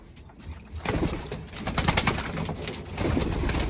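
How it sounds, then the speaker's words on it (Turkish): Racing pigeons bathing in a water tray, with bursts of splashing and wing flutters and soft cooing, close and continuous, growing busier toward the end. "Bakınız arkadaşlar. Kuşları banyo yapıyor."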